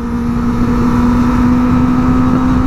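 A Kawasaki ZX25R motorcycle holds a loud, steady high-revving engine whine during a ride, with wind and road rumble underneath and no voices.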